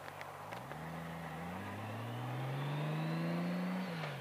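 A Honda GL1800 straight-six motorcycle engine revs up with a steadily rising hum that climbs and holds, then eases slightly at the end, heard up close at moderate loudness.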